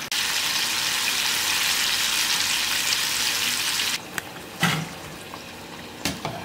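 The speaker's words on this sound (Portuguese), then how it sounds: "Tem que ser uma panela com bastante óleo para a gente fritar ele por imersão." A loud, continuous sizzle of chicken deep frying in a pot of oil, which drops away near the end, leaving scattered clinks and quieter bubbling.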